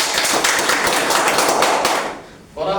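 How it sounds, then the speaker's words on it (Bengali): An audience bursts into dense, sustained applause at a gathering, the clapping loud and close before fading briefly near the end. "ওনাদের জন্য কি হাততালি হবে না?"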